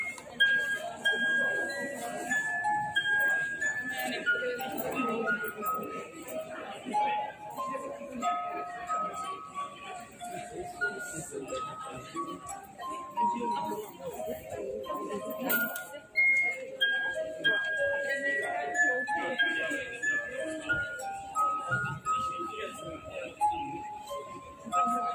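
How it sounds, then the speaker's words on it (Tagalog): Melody played by rubbing the rim of a wine glass goblet filled with water, its sustained pure ringing tones stepping from note to note continuously over a faint background of hiss and room noise. "kung paano niya napapatunog yung baso na may ligaman tubig"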